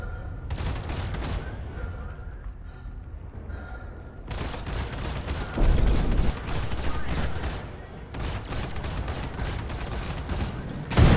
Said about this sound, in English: we got him with our rockets